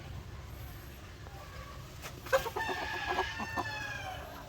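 Barred Rock hens set down on the ground for the first time give soft clucks and brief calls, a short cluster of louder notes midway, over steady low farmyard hum.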